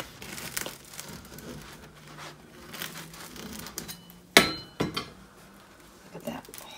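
Crackling crunches of a knife sawing through crusty artisan bread, sharp crisp bursts toward the end over quieter rustling, close-up with some speech present.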